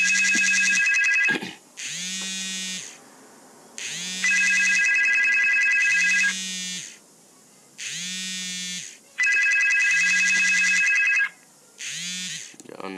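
A phone rings for an incoming call with a repeating electronic ringtone. Bright high chirping notes alternate with a low buzzing vibration pulse in a steady cycle, loud and close, with no talking over it.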